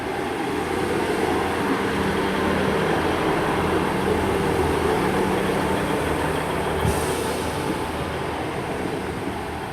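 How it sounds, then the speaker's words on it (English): A class 158 passenger train unit rumbles through Highbridge and Burnham station, a steady loud rolling roar of wheels and engine close by, with no voices. "158766 returning. Wait, this is a train that brought me in here this morning."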